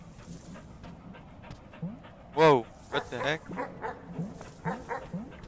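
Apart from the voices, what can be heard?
dog panting and barking in video game Animal Well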